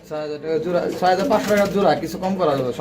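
Danish pigeons coo softly in repeated low, rolling calls, heard close and mixed with voices talking.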